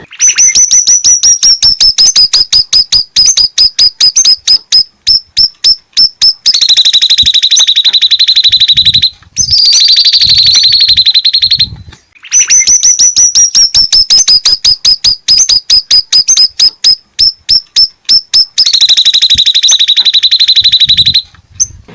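House sparrows chirp loudly and rapidly in a fast, even rhythm, continuing with only brief pauses.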